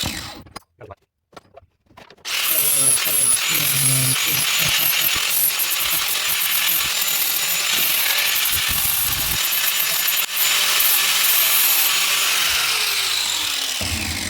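A steel chisel is ground down on a power grinder, giving a loud, steady, harsh whine that runs continuously for more than ten seconds after a few brief clicks and bumps at the start.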